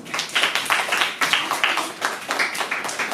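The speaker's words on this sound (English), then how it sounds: "Let's thank Patty again with our applause" A talk-show audience gives a round of applause, with steady close claps in quick bursts and faint speech mixed in.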